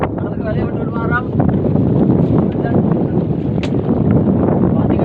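Strong wind buffets a fishing boat out at sea off Point Pedro during prawn fishing. A steady, loud roar of wind noise hits the microphone throughout, with faint voices mixed in.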